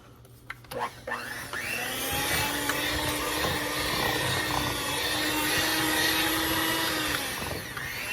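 An electric mixer stirs sour cream sugar cookie dough in a steady, close whirring drone that starts after a few clicks and holds for several seconds before winding down.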